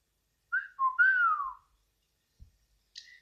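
A person whistles a short tune of a few sliding notes, clear and close, followed by a soft thump and a brief high chirp.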